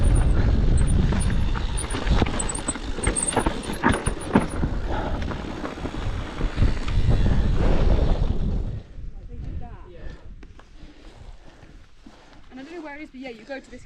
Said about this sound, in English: Windy as hell up here.